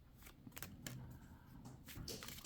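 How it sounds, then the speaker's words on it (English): Tarot cards shuffled at length during a weekly reading, a soft continuous riffling and papery flutter with a few brighter slaps, close and fairly quiet, with no talk over it. "I have to shuffle for a long time to get the right cards"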